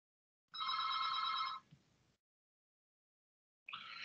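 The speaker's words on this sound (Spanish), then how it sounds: "Pero un segundito que están llamando por teléfono." A telephone rings indoors with a bright, warbling electronic tone in a single sustained burst, then a short pause before the ring starts again; no voices over it.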